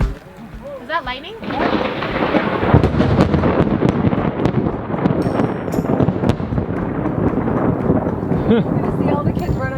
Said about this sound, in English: Is that lightning?